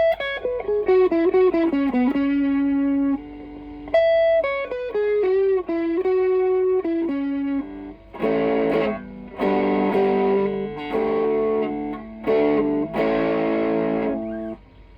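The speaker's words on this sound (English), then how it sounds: "now I'm just turning on the distortion pedal by itself without any overdrive" An electric guitar plays descending melodic lines and then heavier chords through a distortion pedal alone, with no overdrive pedal engaged, loud and sustained, with no talking.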